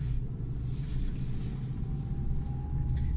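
A Fiat Egea manual-gearbox car, converted to semi-automatic shifting, drives along in low gears; a steady, muffled engine rumble is heard from inside the cabin, with no distinct shift sounds and no speech.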